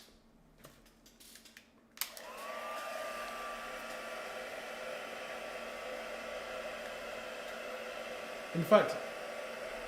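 A hair-style heat dryer switches on after a few soft clicks and blows steadily, close and moderately loud, drying shimmer paint; a voice speaks briefly near the start, and a handling knock comes near the end.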